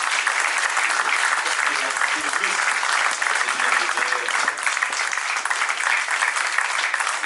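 An audience at a literary festival applauds Célimène Daudet with a dense, sustained burst of clapping that holds steady and loud from start to finish.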